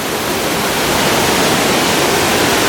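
A waterfall pours inside a dark cave at the Atlantis Paradise Island resort in the Bahamas, making a loud, steady, close roar of rushing water with no break.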